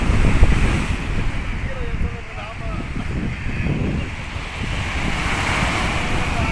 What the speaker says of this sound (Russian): смотрите, как море подошло.